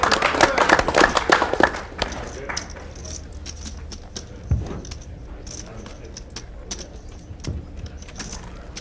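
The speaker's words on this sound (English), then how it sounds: "Let's give Nick in the 9th seat a round of applause." An audience claps for a player at a Heartland Poker Tour table in the Ameristar Casino, East Chicago. Dense clapping fills the first two seconds, then thins to scattered claps and table rattle while people keep talking.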